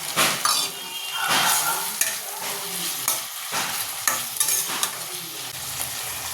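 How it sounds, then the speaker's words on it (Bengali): Chopped tomatoes and poppy seeds fry with onion in a hot pan, loud continuous sizzling broken by repeated scraping strokes of a spatula against the metal, close up and with no voices. "এই টমেটোটাও মজবে সেই সঙ্গে পোস্তটাও কষা হয়ে যাবে"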